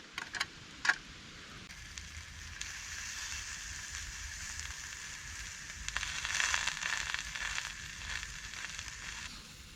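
Chorizo sausages frying in a pot over a campfire outdoors, a steady crackling sizzle with a few sharp pops at the start, growing slightly busier toward the end.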